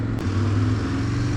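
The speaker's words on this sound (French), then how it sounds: "j'aime trop le bruit qu'elle fait cette moto" A freshly restored motorcycle idles close by with a deep, steady, tractor-like low rumble, loud and continuous with no talking.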